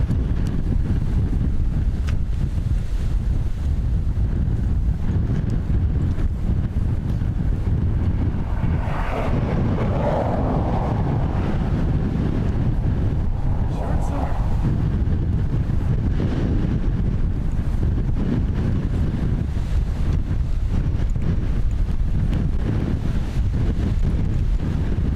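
Strong gusty wind battering the microphone at Dublin Airport, a constant loud roar and buffeting across the whole stretch with no voices.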